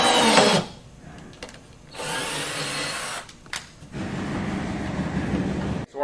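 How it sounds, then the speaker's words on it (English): A power drill bores a hole into a travel frame in loud sustained bursts of whining, grinding noise separated by brief pauses, heard up close with no talking. "so our hole is drilled."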